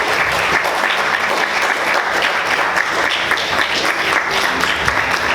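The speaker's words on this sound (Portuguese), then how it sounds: "Você pode aplaudir Jesus" A church congregation applauds Jesus after a prayer, dense sustained clapping from many hands filling the room evenly throughout.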